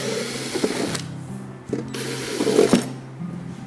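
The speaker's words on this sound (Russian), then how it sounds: "Мне нужен будет шуруповерт." Cordless screwdriver running in short whirring bursts during assembly of a warm-floor heating manifold, moderately loud and close, with pauses between runs.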